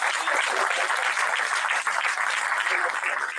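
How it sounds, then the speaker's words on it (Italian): Dense, steady audience applause at a public talk in Sardinia with Luigi De Magistris, a loud, even wash of many hands clapping throughout, with faint voices mixed in. "Un applauso."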